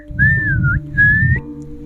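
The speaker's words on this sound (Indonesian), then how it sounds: "Suara siulan terdengar kala Melati melewati segerombolan lelaki yan" Two clear whistled notes, the first gliding and the second held, sound close over a low background hum.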